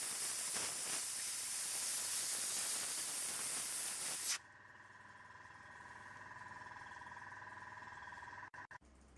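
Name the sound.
airbrush spraying paint on miniature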